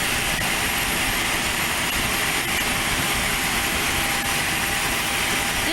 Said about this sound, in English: It looks like it just took off.